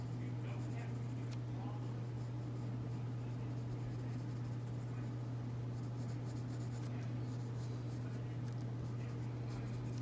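A Prismacolor colored pencil shades a fall pumpkin drawing with dark green layers, giving steady, soft scratchy strokes that run continuously over a low constant hum.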